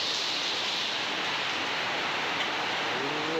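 Heavy rain pours down at a crocodile farm in Samut Prakan, a loud, steady, dense roar of falling water that holds unbroken throughout.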